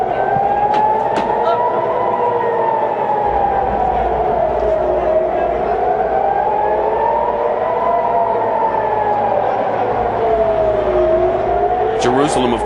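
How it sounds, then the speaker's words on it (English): Air raid sirens wail across Tel Aviv during rocket fire from the Gaza Strip, a loud, continuous rising and falling tone that fills the whole stretch without a break. "You can hear the air raid sirens in the background."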